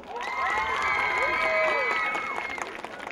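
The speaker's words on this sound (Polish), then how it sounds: "Poprosimy dla niej o brawa." A crowd at a town festival teen beauty pageant cheers and claps together, with many high voices shouting and whooping over a steady bed of applause.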